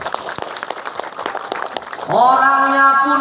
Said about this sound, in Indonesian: Tepuk tangan kan?